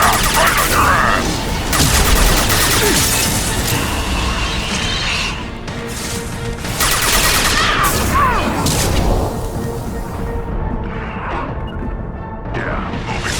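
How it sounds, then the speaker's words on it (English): Heavy anti-ship batteries in Mass Effect 2 pound a Collector vessel, with booming blasts and crashing impacts rolling continuously over a dense battle din. Voices break in intermittently partway through. "Firing anti-ship batteries at collector vessel."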